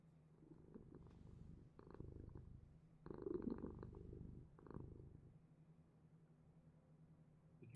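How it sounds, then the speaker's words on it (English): A domestic cat purrs close to the microphone, a low rumbling, continuous vibration that swells and fades in several breathy cycles, with no talking. "That's my cat."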